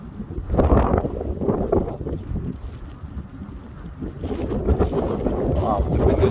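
Strong winter wind gusting during a snowstorm walk around Dundas Square in downtown Toronto at minus 11 with windchill, a steady roaring rush buffeting the microphone close up, swelling and easing throughout.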